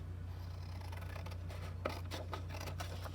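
Craft scissors snip quietly through material, a few brief crisp cuts spaced over a steady low hum, close and soft.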